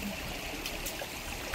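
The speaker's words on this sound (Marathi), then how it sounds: "पाणी एकदम काचीसारखं ट्रान्सपरंट आहे आणि असं वाहत आहे." A clear, cold stream flows steadily over stones under trees, a continuous broadband wash of running water, close and moderately loud, with no voices.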